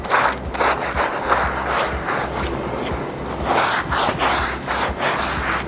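A stiff brush scrubs a Holstein cow, likely on her tail, in repeated coarse rasping strokes with a steady back-and-forth rhythm, close and fairly loud with no talk.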